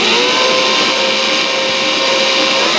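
A stand mixer runs loud and continuous, beating skillet cookie dough for cookies with fudge sauce, with a steady whirring drone and no pauses.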